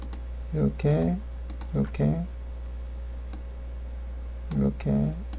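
Computer keyboard and mouse clicks in an editing session while someone talks, with sharp clicks in short bursts spaced a few seconds apart.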